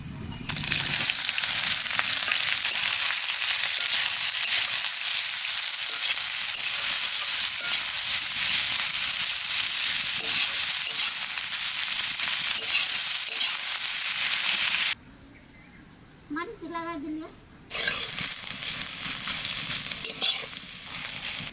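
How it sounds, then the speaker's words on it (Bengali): Whole spices (cloves, cinnamon, cardamom, dried red chilies, black peppercorns, bay leaves) and onions frying in hot oil for a village-style mutton curry: loud, steady close sizzling that drops away briefly near the end, then returns just as strong. "তেলের ওপর দিয়ে দেবো লং দারচিনি এলাচ শুকনো লঙ্কা গোটা গোলমরিচ আর তেজপাতা এবার পেঁয়াজ দিয়ে দেবো"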